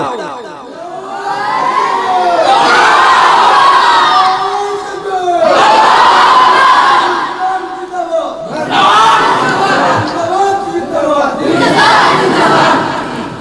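A large crowd at a religious gathering rises and shouts a takbir chant in loud, sustained collective roars, three surging waves of massed voices swelling and falling one after another.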